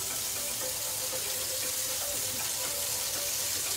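Minced garlic fries in a pan with a steady, even sizzling hiss that stays at constant loudness throughout, with no voices.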